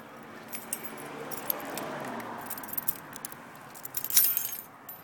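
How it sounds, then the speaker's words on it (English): Keys to a 2005–2006 Kawasaki ZX6R motorcycle jangle in a brief metallic rattle near the end, loudest around one burst, with soft handling noise before it and no talk. "oops, where did I leave the keys? Here they are."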